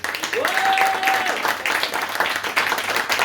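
Audience applause at a literary afternoon in a Marseille bookshop, a steady dense patter of many hands filling the room, with a brief tonal whistle-like sound and some voices mixed in.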